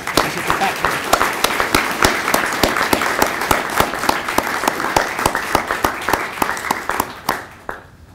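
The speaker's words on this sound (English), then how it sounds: "So please, a round of applause for Jim." Audience applause at an electrical and computer engineering symposium, a dense steady patter of many hands clapping close and loud for about seven seconds before tapering off.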